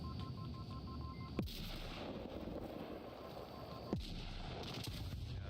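Grenade blasts amid gunfire in a first-person shooter match, two sharp booming explosions a few seconds apart over a continuous rumble of distant shots and game ambience.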